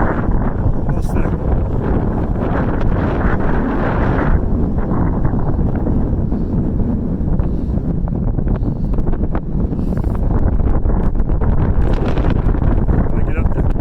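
Strong, constant wind roars and buffets the microphone on a steep hike up Grandeur Peak, a loud unbroken rush that fills the whole stretch.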